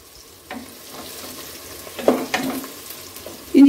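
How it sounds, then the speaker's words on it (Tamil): Onions sauté in oil for a fish biryani, giving a soft sizzle broken by several spoon scrapes and stirs that grow louder toward the end. "வெங்காயம் நல்லா பொன்னிறம் ஆக வரைக்கும் வதக்கிக்கலாங்க"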